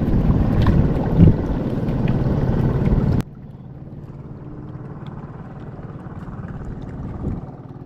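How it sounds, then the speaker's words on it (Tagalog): Strong wind buffets a fishing boat out on the water at Taguig, a loud steady rush that drops abruptly about halfway through to a quieter wind-and-hull background. "lakas ng hangin"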